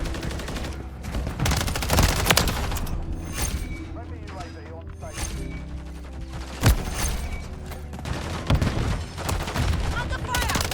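Dense gunfire from Call of Duty Modern Warfare 3 multiplayer, with sustained automatic bursts and heavy booming shots over a busy game mix, while in-game voices call out under the shooting.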